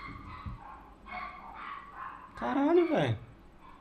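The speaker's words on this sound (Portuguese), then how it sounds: "Esse cachorro não é meu, não." A dog barks and yelps nearby in a room, a short sharp bark then a louder whining yip, mixed in with someone talking and game sounds from SMITE.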